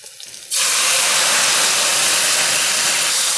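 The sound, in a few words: white wine poured into hot pan, deglazing sizzle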